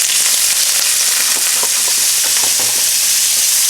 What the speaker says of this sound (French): Donc, la pré-cuisson des crevettes. On a mis une cuillère à soupe. Et on va faire revenir ça pour avoir une petite coloration.